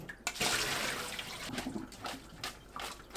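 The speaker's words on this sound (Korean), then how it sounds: "찬물에 헹구고 물기 탁탁 털어 체에 받쳐둡니다." Cold water splashes and runs over blanched potatoes in a kitchen, with intermittent rinsing gushes and tapping as the water is shaken off, fairly faint and close.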